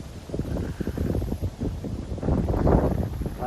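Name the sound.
wind blowing in a cemetery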